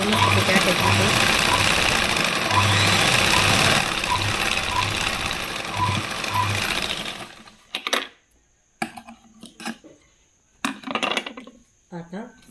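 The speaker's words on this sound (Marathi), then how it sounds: "आता परत पुढच्या मुंड्याला गोल असा आणखीन मध्यापर्यंत टिप मारायची." A sewing machine stitches a sleeve onto a blouse, running in a steady, close, rhythmic whir for about seven seconds before stopping, followed by short handling noises and a voice.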